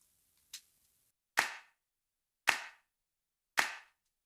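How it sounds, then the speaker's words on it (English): Three crisp single hand claps spaced about a second apart, each trailed by a short reverb tail that blooms just after the hit, with a faint softer click before them. "the reverb comes in after the clap when it's too much like this"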